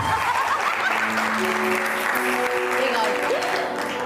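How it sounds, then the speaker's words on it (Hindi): Applause for a bride on a television show set, steady clapping from a studio audience under which voices and faint tonal sounds can be made out. "विनीता के लिए बहुत सारी तालियां।"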